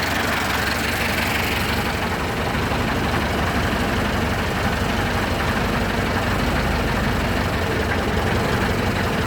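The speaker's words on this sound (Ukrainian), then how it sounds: "Трактор на холостих обертах піднімає" A heavy T-40 tractor engine idles loudly and steadily, a constant low rumble with a faint knocking rhythm and no voices.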